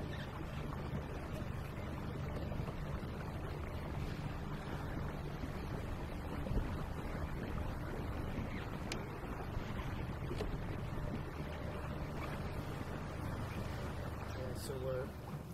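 A boat runs on a 2 kW electric outboard motor, giving a low, steady hum mixed with wind buffeting the microphone and faint water wash, continuous and fairly quiet throughout.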